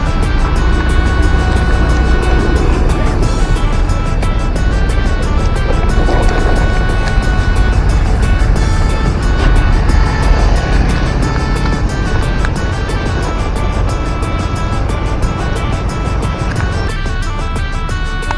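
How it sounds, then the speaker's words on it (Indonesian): Congested road traffic near a toll gate on the Padang–Sicincin toll road gives a continuous, loud rumble of vehicle engines and tyres that holds steady throughout, with no talking. "Terlihat arus kendaraan sedikit macet di sini."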